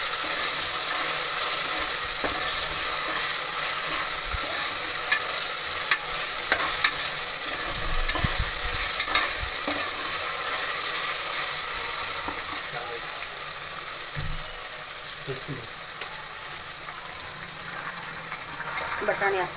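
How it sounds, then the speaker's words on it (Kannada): Ginger garlic paste fries in a pan for vegetable pulao, a steady hiss of sizzling oil with occasional spoon scrapes and clicks, and a voice faintly heard at times underneath. "ಚೆನ್ನಾಗಿ ಹಸಿ ವಾಸನೆ ಹೋಗೋ ತನಕ ಹುರ್ಕೊಳ್ಳಿ ಶುಂಠಿ ಬೆಳ್ಳುಳ್ಳಿ ಪೇಸ್ಟು"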